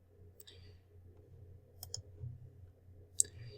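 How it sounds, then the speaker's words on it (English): A few sharp mouse clicks land at scattered moments while an online quiz's results are clicked through, each a brief crisp tick over a faint low room hum, with no talking. "I want to click through to my results"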